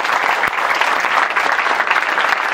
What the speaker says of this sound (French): C'est bien, on les applaudit.